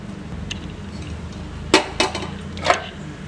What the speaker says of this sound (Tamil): இப்போ நம்ம மூடி வச்சு மூடிடலாம்.